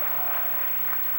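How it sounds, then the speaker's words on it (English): Crowd of Calvin fans cheering at a men's college basketball game against Kalamazoo, a steady, fairly faint wash of arena noise with scattered claps through the whole moment. "They're trying to cheer this team on."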